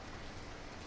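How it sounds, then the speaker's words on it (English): Hail falls in the Farming Simulator 17 video game, a dense, even patter of pellets hitting a surface, steady and unbroken throughout. "I don't think the rain looks like this, so I think that is hail"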